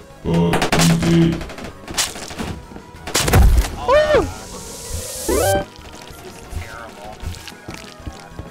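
Bursts of gunfire in the video game Banana Shooter, sharp loud shots mixed with game effects and swooping electronic tones, with people talking and exclaiming over the action.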